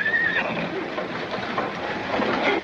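A horse in a corral on an old western film soundtrack gives a loud, close whinny with a rising, shrill opening, then keeps up rough, breathy snorting against steady background noise.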